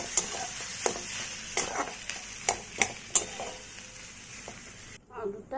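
A spoon stirs boiled potato filling in a pan with a soft sizzle, sharp clinks and scrapes arriving in an uneven rhythm, then the sound cuts off abruptly near the end.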